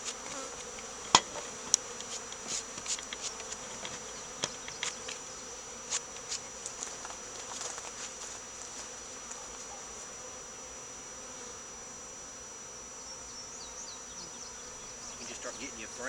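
A honeybee swarm, about two weeks old, hums with a steady, dense buzz inside a hive box where the bees have drawn wax on new foundation. The drone continues throughout, and a few soft knocks and taps stand out early on.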